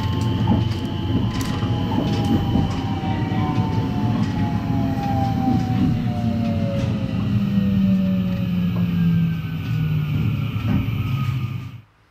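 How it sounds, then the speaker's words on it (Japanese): A train pulls into Omi-Shiotsu station in Nagahama, Shiga, with a loud steady rumble and long, gliding, falling brake squeals as it slows, then stops abruptly at the end. "9時37分、列車は滋賀県長浜市の近江塩津駅に到着します。"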